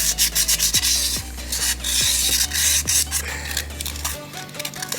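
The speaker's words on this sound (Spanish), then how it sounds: "Con la lija vamos a empezar a lijar toda esta parte" Sandpaper rubs back and forth across motorcycle brake shoes, a rhythmic rasping scrape in repeated strokes, close and loud, with a low hum underneath that cuts off near the end.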